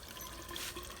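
Water runs from an outside spigot, a brief, faint, steady splashing flow with no voices.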